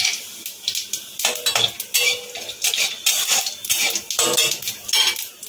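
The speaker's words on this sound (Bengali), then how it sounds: "কড়াইতে সর্ষের তেল বসিয়ে দিয়েছি, তেল গরম হয়ে গেছে, একটু জিরে ফোড়ন দিয়ে দিলাম।" A metal spatula clinks and scrapes against a kadai while cumin seeds crackle in hot mustard oil, heard as a close, irregular run of sharp clatters and sizzling bursts with no one talking.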